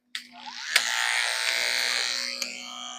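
Electric hair clipper fitted with a 3/4 inch blade switches on with a click, then hums and buzzes steadily up close for a few seconds, with slight changes in tone as it moves through hair.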